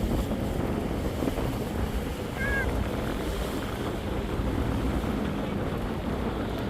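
Steady broadband rumble and wind rush on the rear roof of a passenger launch travelling on a river, a constant engine-and-water drone with wind buffeting the microphone and a faint brief whistle-like tone partway through.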